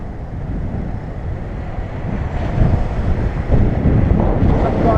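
Strong wind gusts by the sea on a Taiwan coast, buffeting loudly across the microphone in a dense roar, with surf washing faintly beneath.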